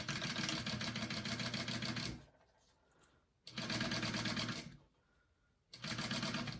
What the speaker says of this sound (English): I'm going to lay my zipper right side up. My pocket piece is right side up. I'm going to sew that on.